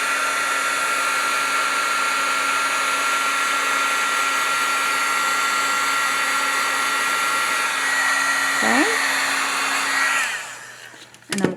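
A heat tool blows a steady, loud whirring hiss while heat-setting ink on a card, running continuously before it is switched off and winds down near the end.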